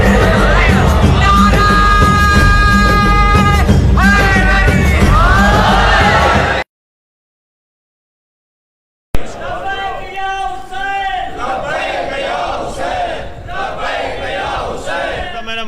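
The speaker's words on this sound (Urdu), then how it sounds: "ضرور لگا لبیک یا حسین کا نعرہ" A large crowd roars and chants a religious slogan in unison, loud and close, in two bursts separated by a sudden silent gap, with shouting voices layered over the chanting.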